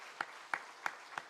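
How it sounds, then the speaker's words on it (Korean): Sparse claps sound at a church Sunday morning service, Easter worship, with four evenly spaced sharp hits at moderate volume over faint room tone. No voices are heard. "우리 그런 마음으로 이 시간 박수로 격려하고 축복하겠습니다"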